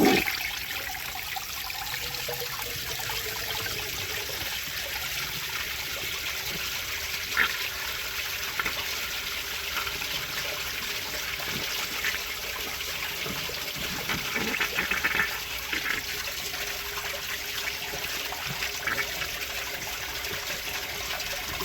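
Vintage toilet flushing against a clogged siphon jet, 1970s-era porcelain fixture, a steady trickling and gushing water flow that runs continuously and fairly softly, with a few brief louder surges, no talking.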